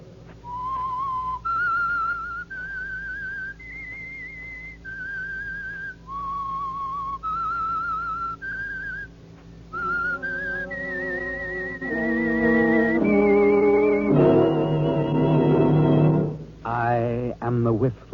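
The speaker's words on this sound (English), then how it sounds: "That whistle is your signal for the Signal Oil program" Whistled theme tune of The Whistler radio mystery show, a clear melodic human whistle of stepped notes that gives way to a swelling orchestral passage near the end.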